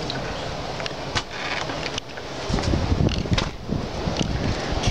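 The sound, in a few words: windstorm gusts outside tiny house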